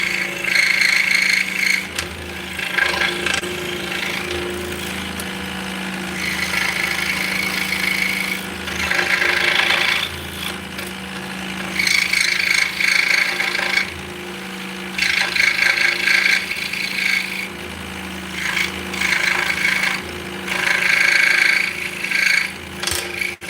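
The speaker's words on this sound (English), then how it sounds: "that's the nice thing about the scroll saw is you can take the clamp off the top, drill an entry hole, put the blade in, and then make internal cuts" A scroll saw cuts a mortise in wood from a drilled entry hole, giving a steady motor hum with repeated rasping bursts of blade cutting that start and stop as the workpiece is fed, close up and loud.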